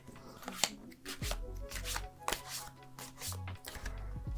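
Tarot cards being picked from the deck during a love reading, giving soft papery clicks, rubs and slides up close, with scattered brief snaps and a low hum underneath.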